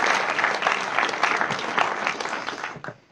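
Applause at an award ceremony honouring two student brothers, a crowd clapping loudly and steadily before tapering off near the end.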